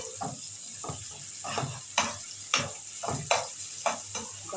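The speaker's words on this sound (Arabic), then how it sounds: "احنا بس بنشوح البصل" Onions and garlic sauté quietly in a pan, a soft sizzle broken by a regular series of sharp spatula scrapes and taps, roughly one every half second toward the end.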